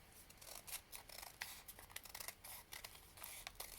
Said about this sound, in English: I don't know if I should try to trim it down